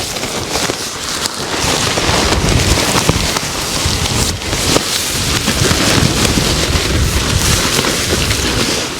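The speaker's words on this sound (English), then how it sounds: "As you can see, it's pretty windy" Loud, constant wind roars and buffets the microphone throughout at a wild camping site beside a tent, with a rough, rain-like hiss and no pauses.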